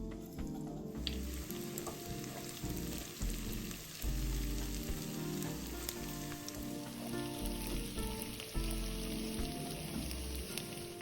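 Shallots, 40 g sliced, sizzle and crackle steadily in hot cooking oil in a wok, a dense continuous frying hiss with small pops and occasional stirring scrapes, close and fairly loud throughout.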